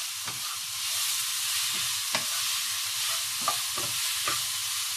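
Pork stir-fried in a pan for Thai nam liap fried rice gives a steady close sizzle broken by several scraping spatula strokes against the pan, with no voices.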